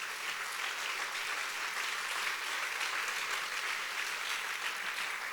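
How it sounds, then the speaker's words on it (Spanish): A church congregation applauds steadily through a sermon, the dense clapping holding an even level from start to finish with no speech over it. "Dale un buen aplauso al Rey también por eso."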